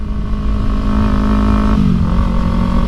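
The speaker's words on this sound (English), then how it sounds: "Back on the Ninja, riding it home." A Kawasaki Ninja 300 motorcycle rides along with a loud, steady engine drone and wind rush, its pitch dipping slightly as the rider eases off, heard up close from the bike itself.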